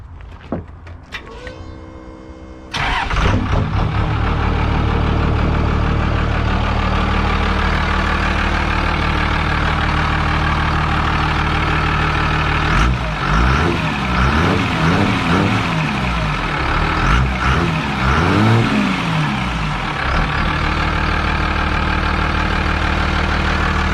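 A first-generation 12-valve Cummins diesel truck engine cranks and catches, then settles into a loud, steady idle with a deep rumble that briefly revs midway.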